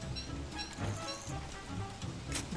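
Rain falls in the survival video game Don't Starve: Reign of Giants, a soft, steady patter with scattered drop taps, fairly quiet and uninterrupted.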